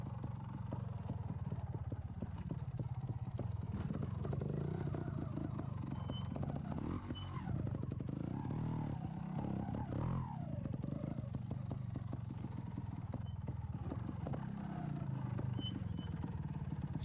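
A trial motorcycle climbing steps gives a continuous loud engine drone that rises and falls with revving, with clattering knocks as the wheels and suspension hit each step, and no voices.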